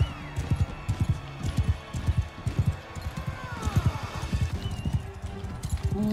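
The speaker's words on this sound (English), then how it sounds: "He just mounted the horse." Horse hooves clip-clop in the Mount and Blade video game, a quick uneven drumming of hoofbeats close by, mixed with busy battle noise and a brief whinny.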